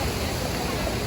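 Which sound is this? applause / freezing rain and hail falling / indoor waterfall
indoor waterfall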